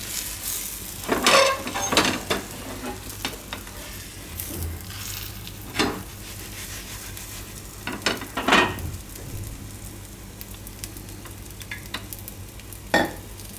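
A corn and potato paratha roasting on a hot pan gives a low sizzle, broken by intermittent scraping and stirring clatter from a spatula at irregular intervals.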